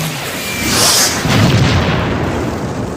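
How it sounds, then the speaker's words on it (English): A bomb blast in a home movie: a broad, rumbling boom that swells and rolls on as a sustained roar, loud and with no talking. "It's a bomb!"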